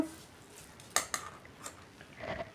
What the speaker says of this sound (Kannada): ಎಲ್ಲ ಮಿಕ್ಸ್ ಮಾಡಿಕೊಂಡು